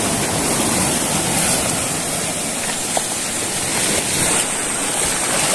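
Rough, choppy river water in Oriental Mindoro rushes and churns in a continuous broadband roar with wind noise, loud and close, with no voices.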